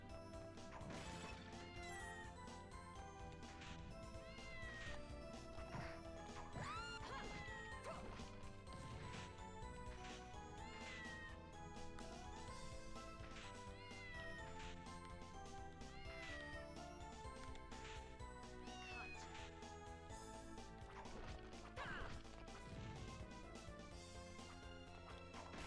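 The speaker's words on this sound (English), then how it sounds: "Yep, I hear the cat now." Repeated cat meows from the video game Castlevania: Order of Ecclesia, rising chirps scattered over constant game music with percussive hits, the meows fairly faint within the dense mix.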